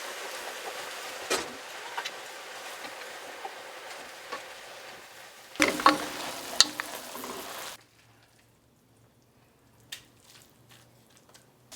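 Shallots and garlic sizzle and fry in a pan while being stirred, a steady close hiss with scraping stirs that grows louder, then cuts off abruptly into near quiet with a faint hum and a stray clink.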